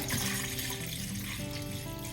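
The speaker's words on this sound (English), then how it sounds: "Add some water." Water poured into a pan of Dijon mustard and maple syrup sauce, a steady close splashing pour that runs without a break from start to end.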